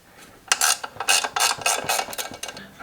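A ratchet wrench backs out the last bolt during a motorcycle chopper teardown, sounding as a series of quick, close clicking bursts in short uneven strokes.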